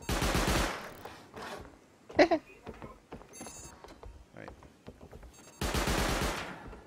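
Bursts of rapid automatic gunfire in a video game raid, shots tearing through a table, two loud sustained volleys at the start and end with a quieter gap between, where a voice and small noises come through.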